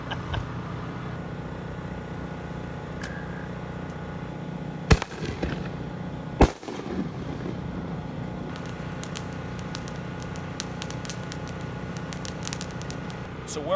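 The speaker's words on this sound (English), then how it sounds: "there are people out here shooting fireworks." Fourth of July fireworks set off outdoors near an RV parking lot, heard as two sharp distant bangs a second and a half apart over steady background traffic and crowd noise.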